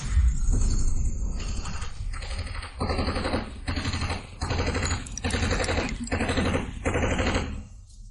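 Rapid gunfire rattles through an animated fight scene, loud sustained bursts of automatic shots repeating in waves with short gaps between them.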